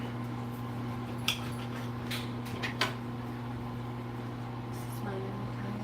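A microwave oven runs with a steady mains hum while heating corn, with a few faint kitchen clicks and knocks on top of the drone.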